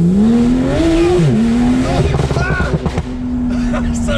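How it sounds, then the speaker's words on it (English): Porsche 911 Turbo S on the road, loud engine roar with rising and falling pitch sweeps as it accelerates and shifts, turbo whoosh mixed in, recorded close with heavy wind and road noise. "Can you hear the turbos?"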